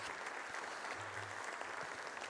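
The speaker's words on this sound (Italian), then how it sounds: "sentiamo gli applausi che accolgono Papa Francesco" Applause welcomes Pope Francis on a visit to Venice. A crowd claps continuously in a dense, even patter, heard from a distance and fairly quiet throughout.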